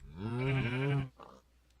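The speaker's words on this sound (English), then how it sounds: "Hey guys, I found some cows." A drawn-out, loud cow moo from the video game Minecraft, a single low harmonic bellow of about a second that cuts off, followed by a brief fainter sound.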